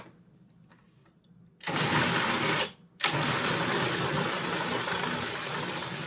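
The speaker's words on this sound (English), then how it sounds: "And then you puree this up, and it's going to create this beautiful," A blender purees peanut butter into a vegan mousse: a soft start, then a loud, dense motor whir that cuts out briefly and resumes, running steadily close by.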